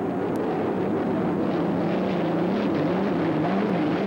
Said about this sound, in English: there's the Miller American with that Lycoming turbine engine.